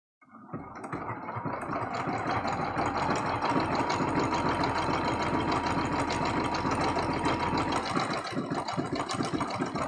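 Sewing machine running steadily and close up while stitching a quilted heart-shaped Valentine's card, with a continuous mechanical hum and rapid needle chatter that lasts nearly the whole time with no pauses.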